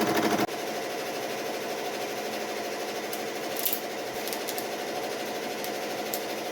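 A Ricoma EM1010 embroidery machine runs steadily, a fast continuous mechanical whir and needle clatter at moderate volume, with a few faint higher clicks.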